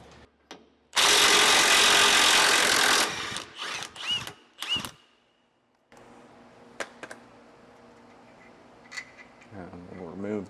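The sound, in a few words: breaker bar and impact wrench loosening rusted nuts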